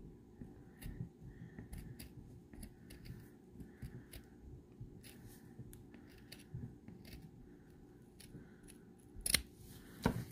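Scissors snip through craft material for a Beebeecraft project, giving a quiet series of short crisp cuts spread across the clip, with a louder burst of handling near the end.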